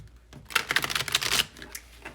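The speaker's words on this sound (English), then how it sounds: "I'm going to go ahead and I'm going to shuffle these cards." A deck of tarot cards is shuffled close by, giving a soft papery crackle and riffle that swells for about a second amid quiet room noise. No one speaks.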